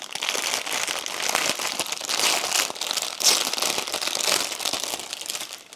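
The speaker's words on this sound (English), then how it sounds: "Excuse the crumpling." Packaging crackles and crinkles throughout an unboxing, with busy close-up crumpling of plastic or paper that stays steady and moderately loud.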